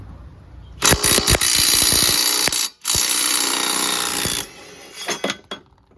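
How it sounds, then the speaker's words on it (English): A cordless impact wrench hammers loose the blade bolt on a Toro Recycler Personal Pace lawn mower with a Loncin engine, firing in loud, close rattling bursts with brief pauses and a short stutter at the end. "get an impact to remove this"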